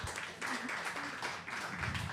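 An audience at a peer-to-peer decentralized networks meetup in Lisbon applauds a speaker, a soft, steady wash of clapping that carries on throughout, with faint voices beneath it.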